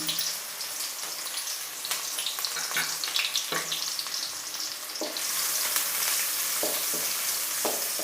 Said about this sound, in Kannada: ಈಗ ಎಣ್ಣೆ ಬಿಸಿಯಾಗಿದೆ ನಾನು ಮಸಾಲೆ ಐಟಮ್ ಏನೂ ಹಾಕಲ್ಲ ಈರುಳ್ಳಿ ಡೈರೆಕ್ಟ್ ಈರುಳ್ಳಿ ಹಾಕ್ತಾಯಿದ್ದೀನಿ